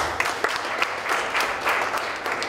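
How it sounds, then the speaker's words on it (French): An audience applauds at a formal French-language gathering, with dense, steady clapping that carries on through the whole stretch. "Je voudrais qu'on l'applaudisse."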